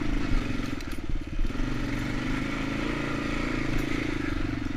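A motorcycle ridden along a road near wood-cutting areas, its engine droning steadily and fairly close with a low throbbing rumble and some wind and clatter, no talk over it.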